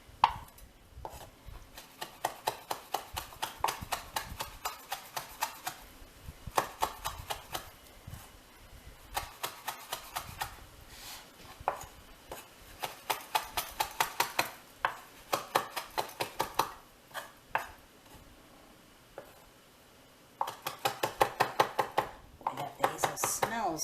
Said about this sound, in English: you want a nice fine chop